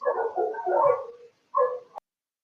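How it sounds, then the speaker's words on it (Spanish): A dog barks in a short burst of several quick, close barks, then a brief pause and one or two more barks, loud against an otherwise quiet background. "Un perro ladrando."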